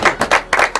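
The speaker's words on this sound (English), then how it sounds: "Round of applause." A small group claps in short bursts after thanks at a carp-fishing venue, loud and close, with uneven rhythm and brief gaps between swells of clapping.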